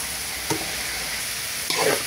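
Rice goes into a hot frying pot for vegetable khichuri with a steady sizzle and two brief bursts of stirring or pouring, close and moderate in level, no talking.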